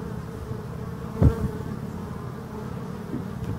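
Forest honeybees fly in front of their hive entrance, making a steady close buzzing drone, with one sharper, louder pass of a single bee near the mic partway through.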